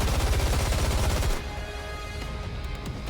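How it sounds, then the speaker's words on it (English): A rapid burst of gunfire from the video game NIKKE rattles loudly for just over a second, then drops to a quieter lingering background. "Gunfire, unmistakably Snow White's, erupts from behind."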